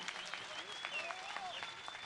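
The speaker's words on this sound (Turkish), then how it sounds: "Kocaman alkışlar gelsin" Steady applause from a boxing event audience after a heavyweight bout, a dense wash of clapping throughout, heard from a distance with faint whistles over it.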